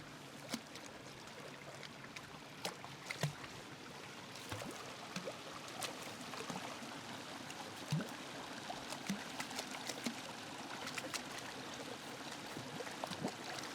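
A dog plays and splashes in a Dartmoor stream, giving quiet, scattered splashes and drips over a soft, steady flow of running water.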